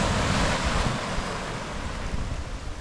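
Sea waves at Gokarna beach roll and wash in a continuous, fairly loud surf roar, mixed with gusty wind buffeting the microphone and no voices.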